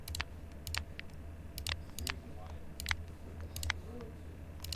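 Sharp computer clicks, likely a mouse right beside a microphone, come in small clusters every second or so over a low steady hum, with faint background murmur.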